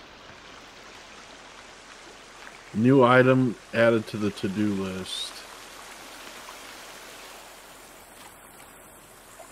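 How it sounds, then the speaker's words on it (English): A waterfall in a cave in the video game The Forest gives off a steady, even rush of falling water throughout, and a brief spoken line rises above it partway through. "Sounds like a waterfall."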